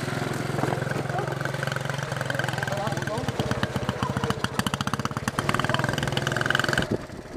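A Honda ATC 70 three-wheeler's small engine putters and revs unevenly close by while an adult talks over it, giving steering directions to a child rider.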